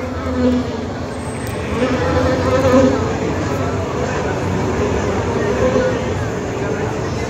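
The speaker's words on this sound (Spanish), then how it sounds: "Démosle un aplauso a Flora, la reina avispa, que nos saluda en esta noche especial desde Corral" Steady insect-like buzzing of a wasp drones throughout, with a busy, crowded background of voices and noise around it, at the 2019 Noche Valdiviana festival.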